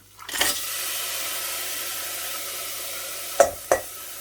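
Steady sizzling of stir-fry vegetables and meatballs frying in hot oil, with a couple of brief scrapes or clatters near the start and end.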